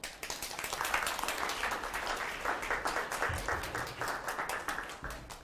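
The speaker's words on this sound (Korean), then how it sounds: "이 박수 다 왕건께 드리는 거예요." An audience claps steadily through a history lecture, a moderate, continuous patter of many hands with a slightly uneven rhythm.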